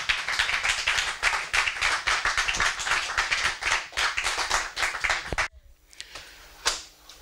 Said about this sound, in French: Applaudissez plus fort, plus fort, plus fort.